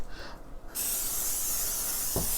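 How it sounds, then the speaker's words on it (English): A sharp, steady cooking spray aerosol hiss onto an air fryer basket starts abruptly and sprays continuously to the end, loud and close, with a brief soft knock near the finish. "I'm just spraying that bottom of that with cooking spray."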